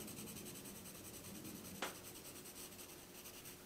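Pencil graphite shading on paper, smoothed over a drawn sphere, gives a soft, continuous rubbing that is quiet and close, with one brief sharper scratch midway.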